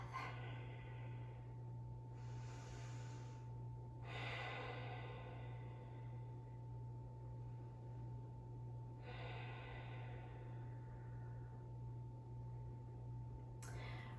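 Slow, audible breathing in a yoga child's pose: a few soft, airy inhales and exhales spaced several seconds apart, fairly quiet over a steady low hum.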